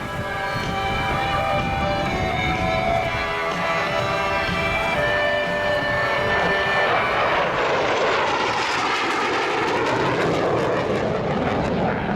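A jet aircraft, the TF, flies a radius turn at the 2009 Australian International Air Show. Its loud, continuous engine roar sweeps through a rising and falling whine and dominates the scene from start to finish.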